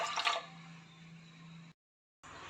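Vinegar, about two spoonfuls, poured into milk to make buttermilk at home: a short liquid splash and trickle, then a steady faint drip, a brief silence, and more quiet liquid noise.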